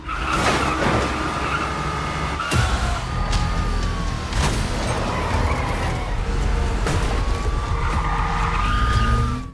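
Getaway car speeding off during a police chase, with a loud sustained engine roar, tyre squeals sweeping up and down, and sharp bangs punctuating the run, close and dense throughout with no talking.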